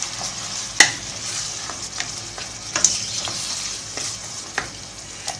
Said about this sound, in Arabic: نخلط الجلبانه تاعي مليح